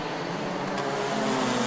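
DD2 Masters racing karts at speed on the Idube circuit, a steady loud engine whine with a broad continuous roar and no pause.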